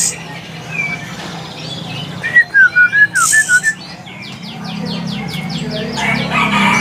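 An orange-headed thrush sings at a busy bird market, a bright run of whistled, warbling phrases with rapid repeated notes over the steady murmur of the crowd.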